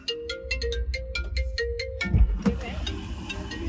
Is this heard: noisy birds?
no